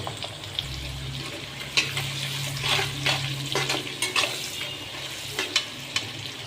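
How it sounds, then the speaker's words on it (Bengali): Bitter gourd slices, seasoned with salt and a little spice, deep-fry in plenty of oil: a steady close sizzle with intermittent sharp stirring clicks and a low hum near the start. "এই দেখুন আমাদের করলা ভাজা চলছে"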